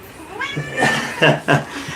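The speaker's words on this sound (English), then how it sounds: "just my cat, Yuki" A house cat meows several times up close, in drawn-out, wavering cries with two louder calls near the end, heard indoors during a live question-and-answer stream.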